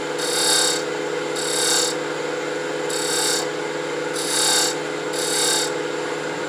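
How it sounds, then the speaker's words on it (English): Palo santo wood box wall being chamfered on a lathe, heard as five loud rasping cutting bursts in a steady rhythm over a constant motor hum, close and with no voices. "I've got to chamfer this wall here"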